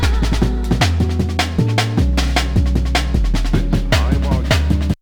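A punchy jungle drum and bass loop made on a PO-33 K.O! sampler, with deep bass notes, layered keys and vocal snippets playing in a steady driving rhythm before stopping abruptly.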